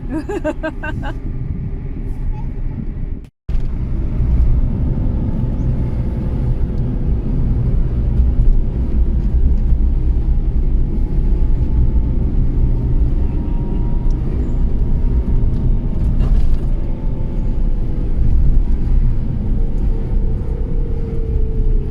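Racing cars, Holdens among them, roar past at close range in a long, heavy engine rumble that rises and falls after a brief dropout near the start.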